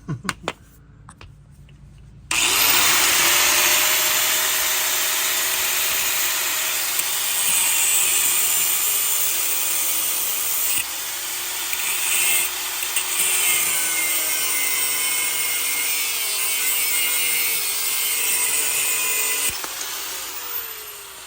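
A power tool cuts through a metal wrench while replacing rear shocks on a 2011-2018 Dodge Ram 1500, a loud steady high-pitched grinding whine running continuously for about eighteen seconds after a brief quiet start.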